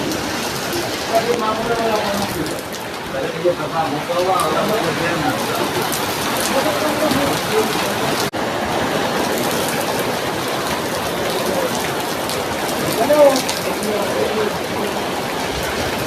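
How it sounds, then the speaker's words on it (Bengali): Rain falls steadily as a dense, even hiss across the whole clip, with a voice talking faintly beneath it. "শুরু হয়ে গেছে বৃষ্টি"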